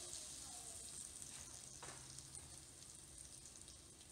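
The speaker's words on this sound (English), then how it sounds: "Into the oil we go." Wild trout fillets frying in oil give a steady, quiet sizzle with a faint stirring scrape partway through, no voices over it.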